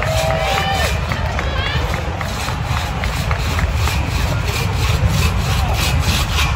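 A crosscut saw tears rapidly through a log in a timed sawing competition at an outdoor forest festival, a loud rhythmic rasping stroke after stroke, with a crowd cheering and an announcer talking over it.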